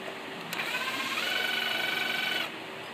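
Power driver spinning out screws from the EGR valve on a Ford PowerStroke 6.0L diesel, a close whirring motor burst of about two seconds over a steady background hum.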